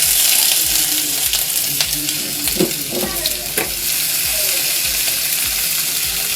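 Cumin, garlic and chopped ginger sizzle steadily in hot oil for spinach paneer, with scraping stir strokes and clinks of a utensil against the pan over a constant frying hiss.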